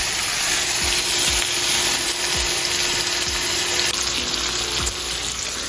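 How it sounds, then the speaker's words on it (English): Bacon sizzles and crackles steadily in a hot pan, a loud continuous hiss with a few soft knocks underneath. "So we'll just let that bacon cook."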